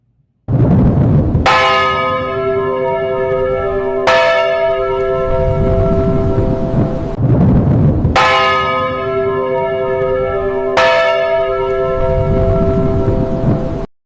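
Church bells peal loudly from a tower, struck in repeated rounds with long ringing overtones that decay between strikes, filling the clip with no voices.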